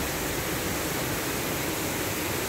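A waterfall at Ngancar village in Magetan pours in a constant, dense broadband rush of falling water, steady and fairly close with no voices over it.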